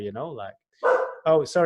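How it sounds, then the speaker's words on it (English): A pet dog barks and yips in a few short bursts close by, interleaved with a person talking over it. "that's my dog"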